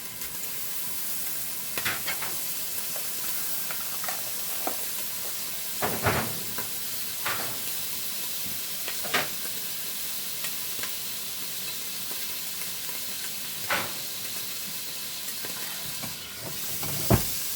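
Butter-style coconut spread sizzling and hissing steadily in a frying pan, a continuous bright crackle broken by occasional louder pops and stirring clatters, close and with no talk.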